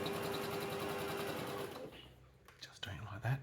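A home sewing machine stitches curtain fabric with a steady, fast mechanical whirr for about a second and a half, then stops, leaving quiet handling noises and brief faint clicks.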